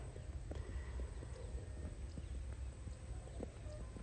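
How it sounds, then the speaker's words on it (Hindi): Hooves of a Marwari horse cantering under a western saddle make a faint, regular series of soft thuds over a low outdoor rumble. "इसका कैंटर जो है वो काफ़ी स्मूथ है, पर जब ये स्टार्ट लेता है उसी समय ये थोड़ा सा बेतहाशा होके भागता है।"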